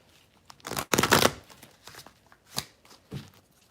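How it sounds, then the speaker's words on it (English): Tarot cards being shuffled in a few quick riffling bursts, close by, with short gaps of quiet between them. "My shuffle is a little off."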